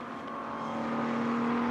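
Le Mans Cup race cars accelerating during qualifying at Silverstone, a steady rising engine whine that builds and holds, moderately distant and alone without talk.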